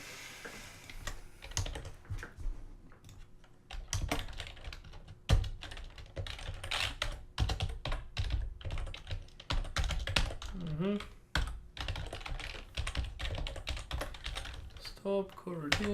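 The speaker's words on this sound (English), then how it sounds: "There, you do the typing." Steady keyboard typing on a computer runs in quick bursts of clicks and key taps, close and fairly quiet, with short pauses and occasional speech during a game development session.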